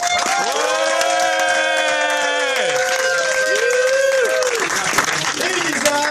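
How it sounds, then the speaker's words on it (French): Studio audience applause at a French television game show, a steady wash of clapping through the whole stretch, overlaid by loud sustained musical tones that bend and shift in pitch. "On va leur faire un tonnerre d'applaudissements."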